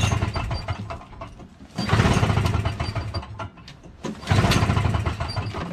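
A 7 HP Briggs & Stratton engine on a Toro Snow Commander R-Tek 24-inch snowblower is cranked with the choke on and never fires. Two loud bursts of rough mechanical clatter are heard close up.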